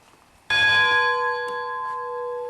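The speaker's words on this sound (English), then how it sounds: "If you want to ring a locomotive bell," A large locomotive bell struck once, ringing out loud and close with a bright metallic clang and a long, shimmering sustain that slowly fades, a faint secondary tap partway through.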